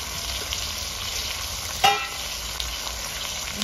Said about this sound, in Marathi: जस्ट आपण तेलात परतून ठेवूया थोडंसं.